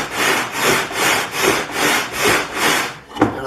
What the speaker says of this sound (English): And I sand until I have contact on all the surfaces.